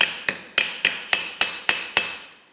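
A hammer drives a leather rivet on a 55-pound anvil, giving about eight sharp metallic strikes at a steady pace. Each blow rings briefly and bright, close and loud, with no talking.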